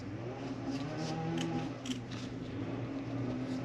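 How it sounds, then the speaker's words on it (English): Scissors snipping through fabric while cutting out a sewn backpack piece, a close, steady run of soft cuts with a low hum in the background. "So I'm just going to take my scissors"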